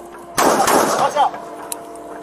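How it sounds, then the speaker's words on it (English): A burst of gunfire during a deputies' fatal police shooting near Clermont captured on body camera, a loud sharp crack with a ragged tail and a faint later pop. "Shots fired."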